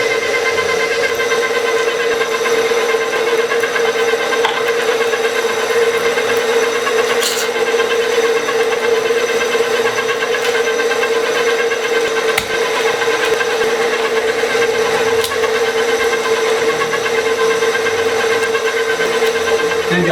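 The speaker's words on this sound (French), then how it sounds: "Maintenant on hache la viande." Electric meat grinder mincing meat for homemade hamburgers, a loud steady motor hum with a constant droning tone that runs without a break, with a few faint clicks over it.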